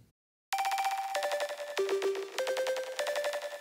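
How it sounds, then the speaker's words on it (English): A synth lead made in Reason, with compressed reverb and delay, plays a short run of bright, bell-like stepped notes that begin abruptly after a brief silence, each one ringing with a fat, glued tail. "So it really makes that reverb and delay sound a lot fatter and more glued together."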